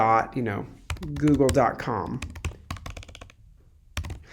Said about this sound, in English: Or I can type in www.google.com